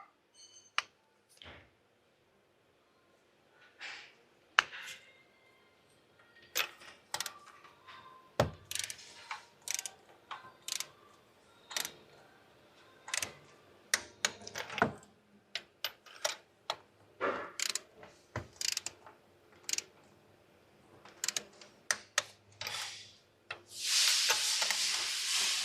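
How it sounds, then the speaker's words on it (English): A torque wrench tightens spark plugs on a Hyundai Veracruz, giving sparse ratcheting clicks and metallic clatter at close range, with bursts of handling noise and a hissy rush near the end. "Then we're gonna torque this to 18 foot-pound."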